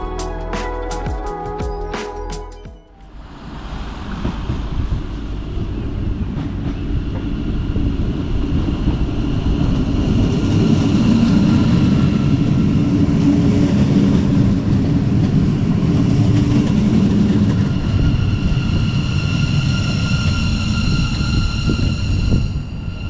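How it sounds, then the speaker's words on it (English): A Siemens Mireo S-Bahn Rhein-Neckar train pulls into Meckesheim station: a two-tone warning horn at the start, then the rising rumble and whine of the approaching unit that stays loud and close, with no talking. "here we can take a look at the arrival of my train today."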